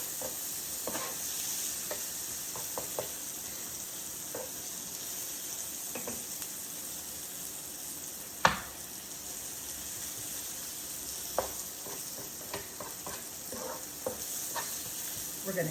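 Peppers and onions, seasoned with McCormick grill mates, sizzle steadily in a pan as a Philly cheesesteak filling cooks, with a constant bright hiss and scattered clicks and taps of stirring, including one sharper knock midway.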